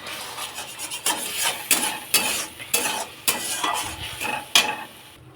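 Kochur loti (taro stolons) cooking with shrimp in a pan as the added water cooks down, with repeated sharp spoon scrapes and stirring clatter against the metal over a soft bubbling sizzle, close and fairly quiet, no talk.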